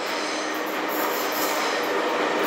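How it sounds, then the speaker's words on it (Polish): A two-unit Koleje Małopolskie regional electric train pulls into a Kraków station platform, a loud continuous rolling rumble with high wheel squeal overhead, close by and without voices. "Teraz jedzie pociąg kolei małopolskich do Kozłowa, się podstawia."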